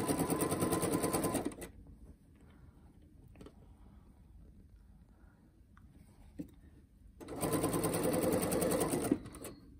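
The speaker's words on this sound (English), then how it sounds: "Put your elastic in at an angle. Back stitch." A sewing machine back stitches elastic ear loops onto fabric masks, whirring loudly in two bursts of about a second and a half and two seconds, separated by a quieter pause of handling noise.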